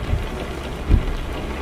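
Steady hiss of rain pattering on a truck in Euro Truck Simulator 2, with a couple of low thumps underneath, continuous throughout; no talking.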